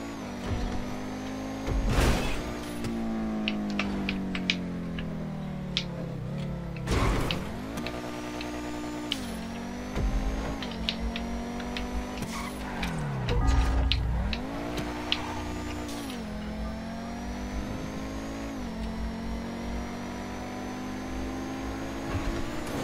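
A car engine in Grand Theft Auto 5 Online on Xbox 360 drones steadily through a stunt race loop, its pitch rising and dipping with a few sharp revs and bumps along the way, with no talking.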